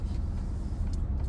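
A car being driven, heard as a steady low road and engine rumble that fills the short stretch without a break.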